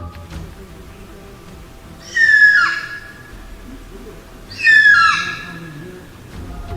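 Two loud, chilling screams from a spot-bellied eagle owl, the bird behind the Devil Bird legend, each a harsh descending shriek of about a second, separated by a few seconds of quiet jungle background.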